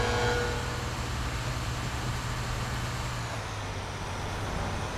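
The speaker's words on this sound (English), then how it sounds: "You ever seen a garbage truck do the slide before?" A heavy garbage truck engine in a video game rumbles steadily with a low droning hum, close and continuous, with no voices.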